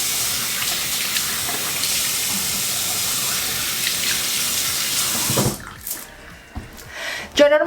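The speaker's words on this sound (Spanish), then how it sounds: "Lavamos bien la carita." A bathroom tap runs steadily into a sink while a face is washed, a loud continuous splash and hiss that cuts off near the end, followed by a few small handling sounds.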